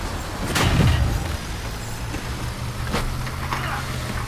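A car driven in the video game Cuisine Royale gives a loud, continuous engine rumble with a few sharp knocks and bumps, with no speech over it.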